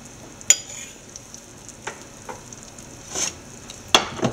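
Egg being beaten with salt and butter in a bowl for a breakfast sandwich scramble: a few sharp whisk-and-fork clicks against the bowl, scattered and irregular, fairly close, with quiet stirring between and no talk.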